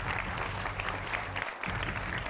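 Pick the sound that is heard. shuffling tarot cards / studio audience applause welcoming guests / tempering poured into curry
studio audience applause welcoming guests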